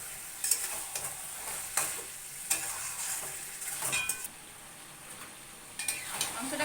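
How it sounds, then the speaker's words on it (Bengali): Meat being stir-fried (kosha) in a pan, with a steady sizzle and repeated scraping strokes of a spatula at close range, no talking. "আর একটুখানি মাংসটা কষানো হবে।"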